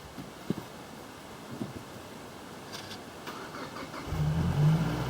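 A car engine, one that has run reliably for fifteen years, cranks and catches near the end after a quiet stretch with faint wind, then settles into a loud, steady low idle.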